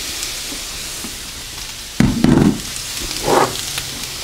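Half a white onion and a red pepper hit a pan of breakfast potatoes over medium heat, a soft sizzle under a few loud scrapes and clatters as the vegetables go in and get moved around.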